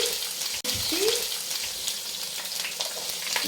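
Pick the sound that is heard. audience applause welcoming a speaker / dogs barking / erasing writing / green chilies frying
green chilies frying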